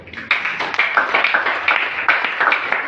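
A church congregation claps for Jesus during a Swahili sermon, a lively rhythmic burst of many hands clapping together, loud and close, with no talking over it.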